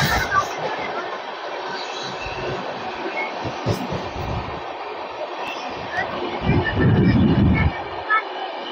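A Digha to Howrah local train running along the line, with steady rattling rail noise and a louder rumbling burst near the end, close and continuous.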